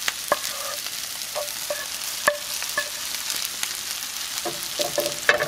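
Eggs fry in a pan for breakfast nachos, a steady broadband sizzle running throughout with several sharp utensil clicks and scrapes scattered over it, close and moderately loud, no voices.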